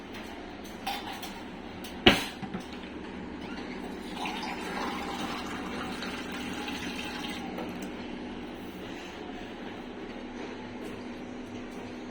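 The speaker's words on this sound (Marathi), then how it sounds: "त्याच्यामध्ये आपण पाणी टाकणार आहोत 1 ग्लास" A glass of water tipped into a prawn mixture, marked by a sharp knock near the start and then a long, steady filling wash that fades gradually over several seconds.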